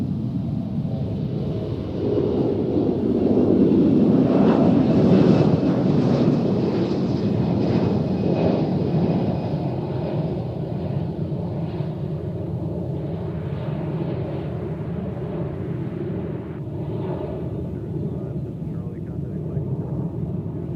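An Amazon Boeing 737 on final approach at Cincinnati airport makes a broad, rumbling jet roar that swells and then slowly fades at a moderate distance, with wind buffeting the microphone and a voice speaking over it.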